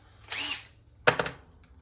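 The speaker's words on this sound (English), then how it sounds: "So I think I'm just gonna try to drill straight down." Power drill boring holes into a homemade skateboard deck, heard as two short close bursts: a whirring one early and a sharper, louder bite about a second later, with no talking.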